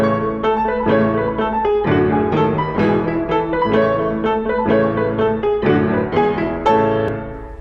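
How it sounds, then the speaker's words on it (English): Piano octave tremolos from Mozart's Alla Turca, Sonata K331, rattle along in rapid alternating notes, steady and fairly loud, played alone without talk. "the octave tremolos that this show is about"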